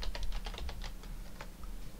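Quick, close clicking keystrokes on a computer keyboard as a name is typed, forming a short fast burst over faint background noise.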